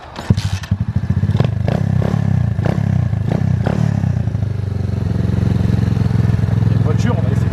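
A motocross bike engine with an odd noise toward the end of first gear: loud, close running with clattering thumps at the start, then a steady, rough droning note that holds to the end.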